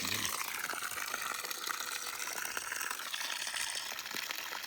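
Muddy, silt-laden water pours out in a steady, continuous gush, a broad hiss and splash throughout with no voices.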